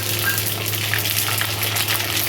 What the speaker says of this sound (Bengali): আর এই যে পাঁচফোড়ন সর্ষে দিয়ে দিলাম